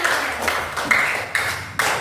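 Students at a school competition clap for the winning groups in a few scattered bursts that start and stop, moderately close and fairly light, with a brief high ping between bursts.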